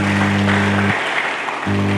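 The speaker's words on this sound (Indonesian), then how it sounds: "Mari kita berikan tepuk tangan dulu bagi Yesus Kristus Tuhan" A congregation at an Indonesian church sermon claps, a moderate wash of applause under a steady low electrical hum that briefly drops out midway.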